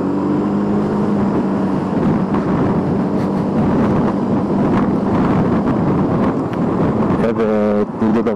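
Strong wind buffets the microphone while riding a Suzuki Burgman 200 scooter on the open road, producing a continuous loud rumbling roar with fluttering gusts throughout.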